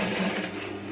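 A sewing machine stitches a small topstitch seam on a batik shirt, running fast and steady at close range for a brief moment.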